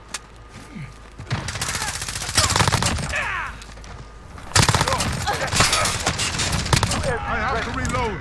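Rapid P90 submachine gun fire in Call of Duty: Modern Warfare, loud close bursts of automatic shots with brief pauses between them and a short lull midway, game effects and a player's voice talking over the shooting.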